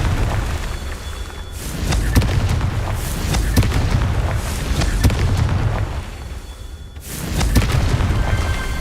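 Confringo fire spell from Hogwarts Legacy, two booming blasts that land about seven seconds apart, each loud and close with a heavy low rumble and a crackling tail, over steady game ambience.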